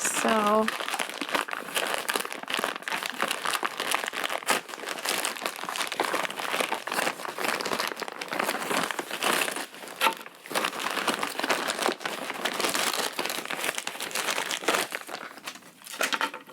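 A plastic baggie of small plastic spider robot kit parts is handled close up, giving continuous crinkling and rustling throughout with no pauses.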